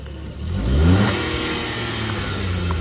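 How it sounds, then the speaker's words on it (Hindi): A car engine revving hard at full throttle while climbing a steep hill, a loud close roar that rises in pitch and then holds as a strained, sustained drone. "लगाया फुल एक्सीलेटर और गाड़ी चल रही दो के स्पीड पे भाई"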